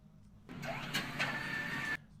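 A car engine in a video game runs for about a second and a half. The rough mid-pitched drone starts and stops abruptly and has slight revving rises, set against near silence.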